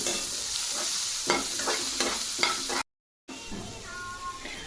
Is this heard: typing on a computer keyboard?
no